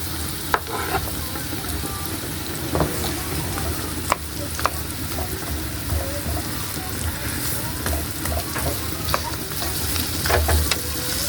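Onion sautés in hot oil in a pan for a Filipino papaya dish, with a loud continuous sizzle close by and scattered scrapes and taps of stirring throughout.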